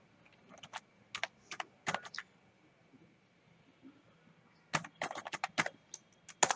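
Typing a hostname command into a Cisco router configuration on a computer keyboard: two bursts of quick, close key clicks separated by a quiet pause, with no talking.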